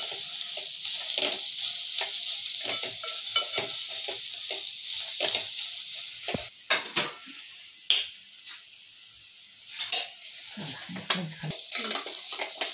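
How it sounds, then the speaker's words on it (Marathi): Green chilies and coriander frying in oil for a spicy dried-shrimp chutney, a continuous bright sizzle broken by sharp spoon scrapes and clinks against the pan, loud and close, with faint voices now and then. "मिरची आणि कोथिंबीर तेलावर मस्त फ्राय करायचं एकदम"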